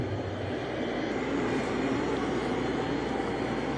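A Roomba Plus 504 robot vacuum with LiDAR navigation runs on its highest suction setting, producing a constant, close whirring drone with no breaks.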